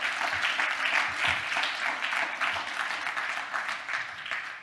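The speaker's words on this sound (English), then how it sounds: "I think they deserve a round of applause." A conference audience applauds the organizers, dense overlapping clapping in uneven swells, fairly loud and close, tapering slightly over a few seconds.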